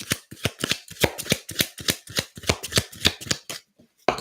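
Cards are shuffled in quick rapid bursts, a crisp riffling flutter repeated many times close up, ending with a short pause.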